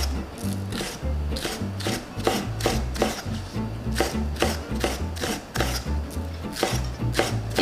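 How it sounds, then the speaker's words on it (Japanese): A knife chops green onions into rings on a cutting board, a quick, regular series of crisp taps, about two per second, close up with no talk. "最後トッピングに使う青ネギも、みじん切り輪切りにしていきます"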